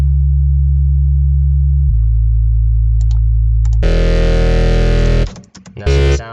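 The Citrus sub bass synth in FL Studio plays deep sustained low notes stepping down in pitch. A bright, distorted lead chord then joins above it, briefly drops out, and returns at the end.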